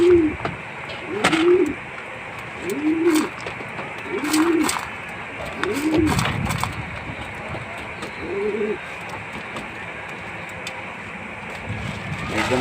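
Pet pigeons cooing while being fed, a series of repeated soft coos at a steady rhythm over faint background noise, close by.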